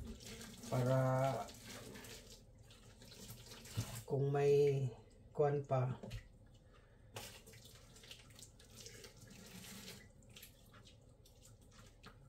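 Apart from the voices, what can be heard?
pouring hot water over carcass to remove leftover feathers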